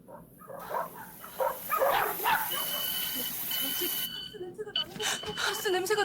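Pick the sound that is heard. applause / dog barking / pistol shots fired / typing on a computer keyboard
dog barking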